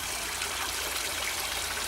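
Clear winter stream flowing beside icicles near a bridge, a steady broadband wash and trickle of water close by, continuous and even throughout with no voices.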